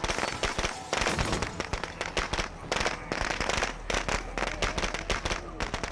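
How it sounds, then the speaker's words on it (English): A bundle of firecrackers crackles nonstop in State of Decay 2, a loud and close barrage of sharp pops in quick irregular bursts that keeps going for the whole stretch. "I'll just throw another group of firecrackers in just to get them all into one spot"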